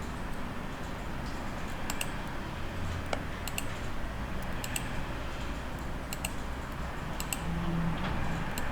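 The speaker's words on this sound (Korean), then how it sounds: "클릭, 클릭, 클릭, 클릭, 클릭" Rapid, evenly spaced computer mouse clicks, repeated in small bursts while zigzag lines are drawn, sitting faint over a steady background hiss with no talking.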